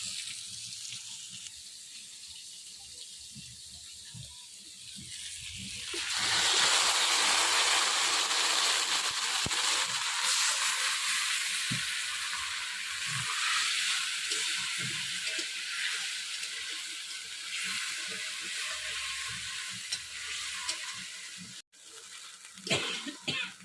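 A paste of mustard, poppy seed and onion goes into hot oil for a Bengali prawn curry with pointed gourd. A quiet stretch gives way to a loud, broad sizzling hiss that gradually settles, with a few clinks of utensils.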